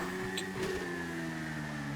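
Motorbike engine in a video game, a steady droning hum held at an even pitch with a short rise in intensity early on, moderately loud and uninterrupted.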